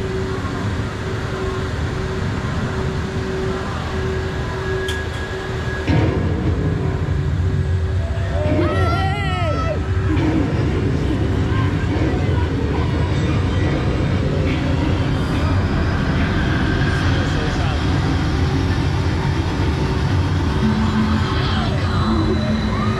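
The Icon roller coaster at Blackpool Pleasure Beach rolls along its track with a continuous loud rumble and rattle, swelling into a rushing surge midway, with faint voices mixed into the noise.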